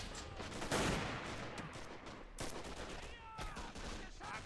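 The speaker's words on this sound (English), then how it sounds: "Machine gunners are engaging." Machine gun fire in the WWII strategy game Men of War rattles in distant bursts with scattered shots and battlefield noise, fairly quiet, with no speech over it.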